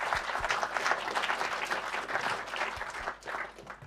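Audience applause at a hackathon presentation session, a steady dense crowd clapping that fills the whole stretch at even loudness before easing slightly near the end, with no talk over it.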